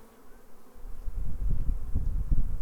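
Honey bees buzz around an opened hive during a quick inspection, a low droning hum that swells and grows denser after the first moments, close and continuous with no talking.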